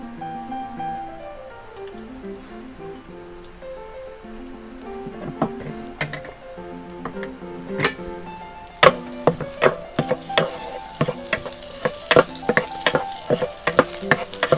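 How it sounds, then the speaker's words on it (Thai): Garlic fries in rice bran oil in a pan with a soft, steady crackle. Sharp pops and clicks grow more frequent and louder as it goes on, over faint tonal sounds early on. "เราจะทำการเจียวกระเทียม"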